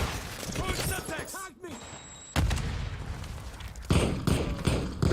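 In a first-person shooter, a thrown flash grenade and a Semtex charge go off as heavy booming blasts. Gunfire rattles around them, and busy in-game chatter and noise run underneath.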